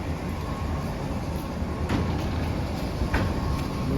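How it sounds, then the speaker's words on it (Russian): Suburban electric train heard from nearby, a steady low rumble and hiss with a couple of faint clicks or clanks, continuous and without talk. "Неужели я в эту электричку сажусь всегда?"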